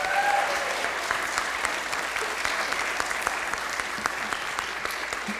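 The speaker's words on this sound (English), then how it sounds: "Let's give him a round of applause." Applause at a city council meeting, a sustained wash of clapping from a room of people lasting several seconds at fairly even loudness.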